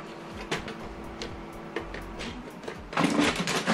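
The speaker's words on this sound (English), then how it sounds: "So now it's going to print the second page." An office printer runs a duplex job, feeding a page back through to print its second side: steady mechanical whirring with clicks and a louder rolling, rattling burst near the end, heard close with no talk.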